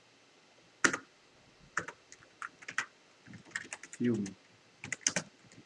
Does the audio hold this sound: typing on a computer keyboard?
yes